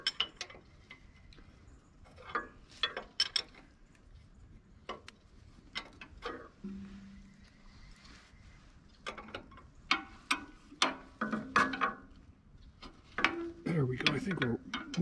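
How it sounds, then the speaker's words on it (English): Wrench working a jam nut on the band wheel of a Wood-Mizer LT40 sawmill, heard as scattered metallic clicks and ratcheting ticks in short bursts, close and moderately loud, with a brief low hum partway through. "got to try to get a wrench in there"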